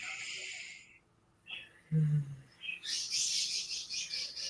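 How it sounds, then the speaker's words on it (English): Pet birds chirp in bursts from another room, sharp high tweets that come and go between pauses, with a few faint low sounds underneath. "Oh, my birds are going crazy in there."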